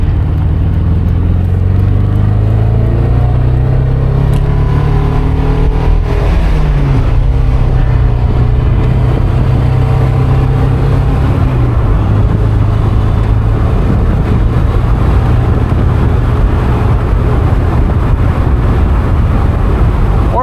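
A car engine drones loudly and close up from inside the cabin while driving, its pitch climbing and dropping through several rev changes and gear shifts over a sustained low rumble, with no talk.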